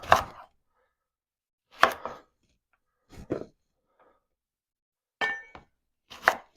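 A knife cutting a pumpkin in half, five separate loud chopping thuds spaced out with silence between them, close and with no talking.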